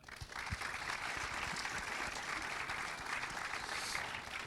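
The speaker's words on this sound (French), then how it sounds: "On peut les applaudir." Steady audience applause fills a cinema during a live show, a dense even clapping texture heard alone without speech, moderately distant and fairly quiet.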